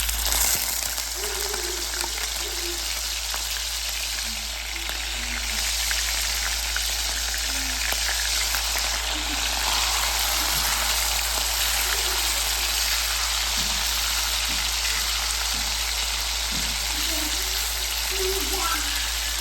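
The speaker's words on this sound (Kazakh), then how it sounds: "Бізде майымыз қызды, енді етімізді саламыз." Meat starts frying in heated oil, giving a steady soft sizzle throughout, with faint clinks from cooking and background hum.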